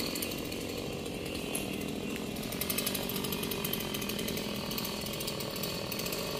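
A chainsaw buzzes continuously at close range, with a rough, rattling whine that holds steady throughout.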